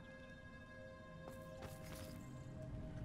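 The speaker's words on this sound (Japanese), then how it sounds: "何の足音だ" Footsteps in the video game Hogwarts Legacy, a few soft steps around the middle of the clip over a steady hum of game ambience and music.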